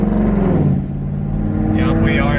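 A cheap exotic car bought from Copart pulls away with its exhaust valve open, giving a loud, close engine drone that dips briefly and then climbs again. A voice talks over it.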